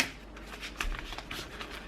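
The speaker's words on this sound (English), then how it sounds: "Okay, I think that's enough shuffling like that." Deck of cards being shuffled by hand, a quick series of soft riffling flutters and light snaps, close and fairly quiet, with no speech.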